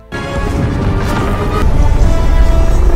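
A cartoon planet blows up in a deep, rumbling boom that swells suddenly and then holds as a loud, sustained roar for a few seconds, with no voices over it.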